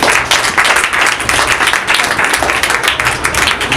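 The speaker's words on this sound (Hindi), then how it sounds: "जोरदार तालियां बजा दो।" A church audience claps and applauds loudly and steadily for several seconds, dense continuous clapping during a sermon.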